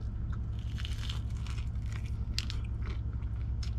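Crunchy air-fried food is bitten and chewed close up, a series of crisp crackling crunches in an irregular rhythm over a low steady hum, with no talking.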